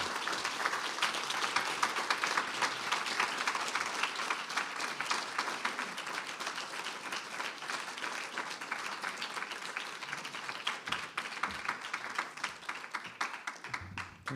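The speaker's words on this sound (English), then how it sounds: "Can we have another big round of applause for Nick Flynn?" Sustained applause from an audience at a faculty presentation honoring Nick Flynn, a thick wash of clapping that stays steady throughout and sounds somewhat distant and soft.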